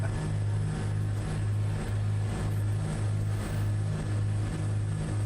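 An aircraft engine in Microsoft Flight Simulator 2024, another player's Cessna C337H Skymaster II twin-engine plane, drones steadily with a rhythmic propeller throb, loud and continuous.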